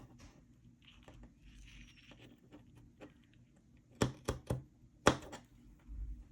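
Several sharp, close snips of scissors or a blade cutting through a Golden Book for an altered book craft, a cluster of crisp cuts after a quieter stretch of soft handling.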